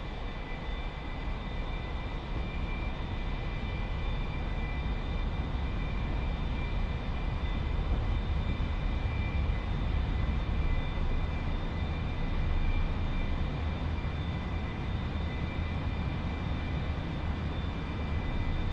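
An A-4E jet in the DCS World flight game rolls for takeoff during Blue Angels airshow solo practice, a loud, steady engine roar with a high whine held throughout, no voices.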